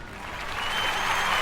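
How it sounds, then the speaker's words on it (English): A crowd of people clapping in a steady round of applause, moderately loud and building slightly, heard alone without talk during an informal New Year's Eve awards show. "I'm going to give myself a round of applause for this one"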